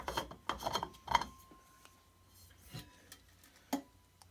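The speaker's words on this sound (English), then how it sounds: "I'll take the top off and show you what we're looking at." The lid comes off a 64oz Ozark Trail thermos holding ice with a few close clicks, rubs and scrapes, followed by quieter handling noises and a faint knock.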